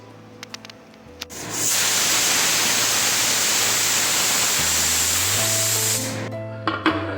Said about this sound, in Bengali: প্রেশার কুকারে চারটে হুইসেল আমি দিয়ে নেব